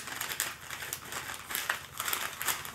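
Paper being folded and rolled by hand into a small piping cone for chocolate in a pastry kitchen, giving soft, continuous crinkling and crackling rustles with a few sharper creases, close and fairly quiet, with no speech.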